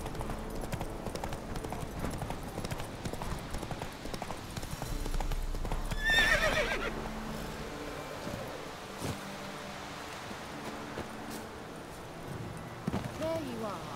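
Roach, a horse in The Witcher 3 video game, gallops with steady hoofbeats and gives a brief neigh midway, with game music and ambient sounds underneath.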